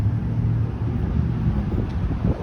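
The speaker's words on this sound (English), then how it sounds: "this wind is actually not bothering me" Steady wind buffets the microphone outdoors while walking through a park, a continuous low rumbling roar that stays loud and unbroken throughout, with no talking.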